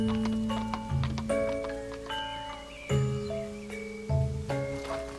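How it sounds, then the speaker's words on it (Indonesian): A horse-drawn andong cart rolls past on a village road, hooves clip-clopping steadily beneath a dense layer of ringing, tonal music. "Kadang mereka menumpang andong yang lewat"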